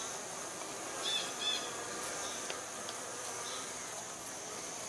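Honey bees swarm around the feeder of a nuc hive, giving a steady, soft, continuous buzz with a few brief louder passes close by.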